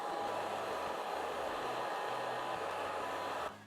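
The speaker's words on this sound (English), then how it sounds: "we're going to do with the hairdryer, we're going to sort of heat up the whole area" A hairdryer blows hot air over vinyl wrap to soften it, a steady broadband rushing hum that runs continuously at close range before abruptly switching off near the end.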